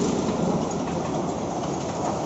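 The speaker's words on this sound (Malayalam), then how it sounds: "ഡാർജിലിംഗിൽ നിന്നും ന്യൂ ജൽപായ്ഗുരിയിലേക്ക് പോകുന്ന ടോയ് ട്രെയിൻ ആണെന്ന് തോന്നുന്നു." Steady, dense rumble and rattle of the Darjeeling toy train arriving at a station, continuous and fairly loud throughout with no voices.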